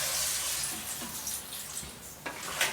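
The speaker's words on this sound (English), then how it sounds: "Now let's pour some water, hot water." Hot water, about one and a half cups, pours into a crab masala curry in a pan, a short hissing, splashing gush that stays fairly faint and unbroken.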